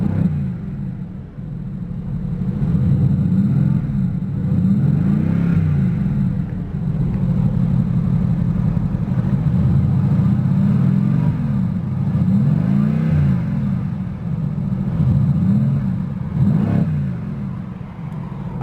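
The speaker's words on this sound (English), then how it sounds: "Let's go ahead and activate the sports exhaust." A 2015 Mercedes-Benz AMG GT S Edition 1 with a 4.0-litre V8 revs repeatedly through its sports exhaust, loud and close, with deep rising and falling blips in a steady rhythm and no talking.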